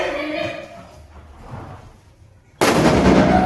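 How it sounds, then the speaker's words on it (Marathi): A sutli bomb firecracker bursts at Diwali with one sudden, loud blast that rings on for about a second after a quieter stretch of background noise. "सुतली बॉम्ब आलेला आहे"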